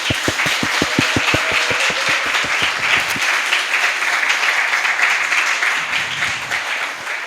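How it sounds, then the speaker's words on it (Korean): Forum audience applauding in thanks after a lecture, starting with a rhythmic unison clap in a steady beat before dissolving into continuous, loud, mixed clapping. "다시 한번 감사의 박수 보내드리겠습니다."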